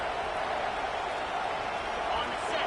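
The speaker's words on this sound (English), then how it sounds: "It is getting loud as this crowd tries to help its defense." Loud football stadium crowd at a TCU game roaring steadily as fans make noise for their defense, a dense continuous wash of cheering with no clear breaks throughout.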